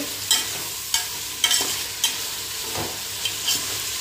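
Tomatoes sautéed with onions and brinjal for idli sambar, a constant close sizzle with sharp, regular spatula scrapes and taps against the pan roughly every half second.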